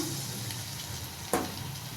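Chicken pieces fry in hot oil over a medium flame with a soft, continuous sizzle, and one sharper hiss bursts out as a piece drops in.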